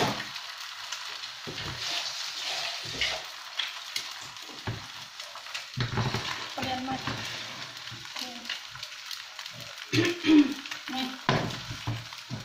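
Minced pork stir-fried with chili paste in a hot pan, a steady loud sizzle broken by spatula scrapes and bursts of spitting oil, with no talk over it.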